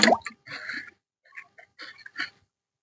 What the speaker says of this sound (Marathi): याच्यात आपण हे 1 किलो आवळे घालूया